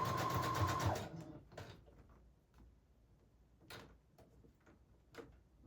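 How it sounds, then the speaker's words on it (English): Sewing machine running a zigzag stitch in a short, fast, buzzing burst lasting about a second, then stopping. Scattered faint clicks and handling sounds follow in a quiet room. "I am just going to go one more time with a little bit of a zigzag stitch."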